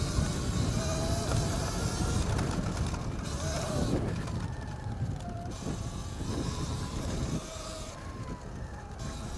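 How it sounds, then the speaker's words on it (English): An electric motorcycle runs at full throttle with a high, rising motor whine over constant loud wind roar, heard as if riding along, with voices faintly under it. "Oh yeah, we're full throttle now."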